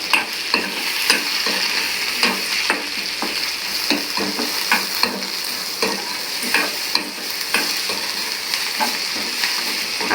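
Tamarind and radish sauté in a hot pan for a radish chutney, a steady sizzle broken by repeated scraping stirs of a spoon against the pan. No one speaks.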